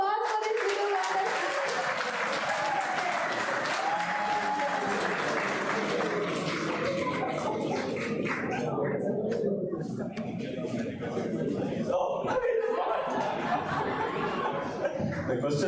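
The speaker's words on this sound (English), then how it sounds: "huge round of applause for this little wonder" Sustained applause from an audience at a Gita Mahotsav event in Sydney celebrating a young first-prize winner, with dense steady clapping, scattered cheers and laughter, and some chatter mixed in throughout.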